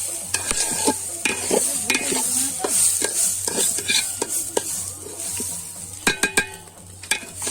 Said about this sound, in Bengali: তো এভাবে ঘিয়ে চালটা ভাজতে হবে।